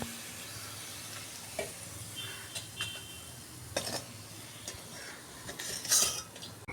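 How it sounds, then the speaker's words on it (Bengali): Fried onion crisps lifted out of hot oil, a continuous sizzle under scattered close scrapes and clinks of a utensil against the pan. "দেখুন বন্ধুরা, পেঁয়াজের বেরেস্তা আমি তুলে নিচ্ছি।"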